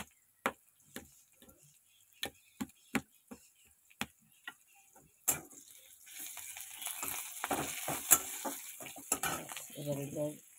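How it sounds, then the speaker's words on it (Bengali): Whole spices for phoron tempering frying in hot oil in a pan, first as sparse sharp pops and crackles, then a steadier close sizzle with a few louder spits, while someone speaks briefly near the end. "এবার ফোড়নটা ভাজা হয়ে গেছে"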